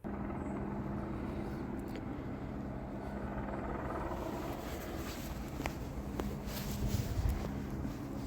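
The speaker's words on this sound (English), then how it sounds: "There you can see the helicopter that seems to be hovering around the area." A helicopter hovers over the Collyhurst housing estate in Manchester. Its faint, distant rotor drone holds steady throughout under outdoor background noise.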